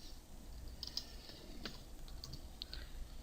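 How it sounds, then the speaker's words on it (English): Light typing on a computer keyboard, a few soft scattered keystrokes close by over a faint background hiss. "I'm going to type in actuator pin."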